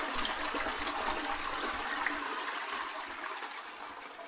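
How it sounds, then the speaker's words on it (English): A toilet flushing in Beach Club Simulator 2024, a long, steady rush of water that holds for several seconds and eases off slightly toward the end, with no talking. "the flushing sound effect is so long"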